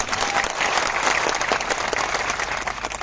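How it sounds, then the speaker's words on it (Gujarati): A crowd at a political gathering applauds two local party workers, a loud, continuous wash of clapping that holds steady for several seconds without speech. "એમના માટે તાળીઓ પાડી"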